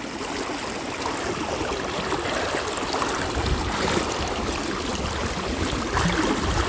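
A river runs under a bridge with a steady, even rush and bubbling of flowing water. It holds a constant moderate level throughout, with no voices.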